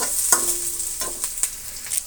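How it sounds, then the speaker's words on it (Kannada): Four finely chopped onions sizzle in a pan for gobi fried rice, a steady broadband crackle broken by a few sharp stirring scrapes and clinks, close and fairly loud with no voices. "ಇವು ಈಗ ಫ್ರೈ ಆಗಲಿ ಚೆನ್ನಾಗಿ"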